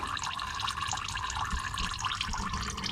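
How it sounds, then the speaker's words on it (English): Oil drains from a 2017 Toyota Tundra in a continuous, close trickling stream that splashes steadily into a container with no pauses. "it's just about done draining the 4 quarts out"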